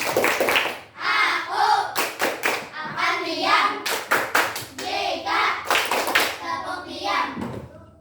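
A class of primary school children performs the rhythmic clapping game "tepuk diam", with sharp bursts of group claps in patterned clusters between short pauses and chanted voices.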